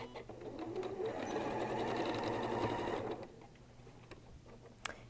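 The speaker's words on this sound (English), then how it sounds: "let's go back to our machine and let's do some sewing" A sewing machine stitches the seams of a fabric boxed pouch, its needle whirring in a fast, steady run for about three seconds before it stops. A few light clicks and handling knocks follow.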